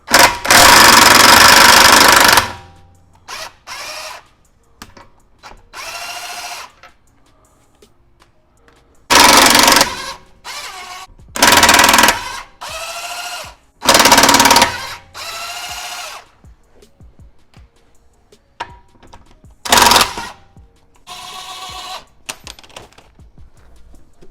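An impact wrench with a wheel socket spins the wheel bolts off a BMW in a series of loud, close bursts of several seconds each, separated by quiet pauses.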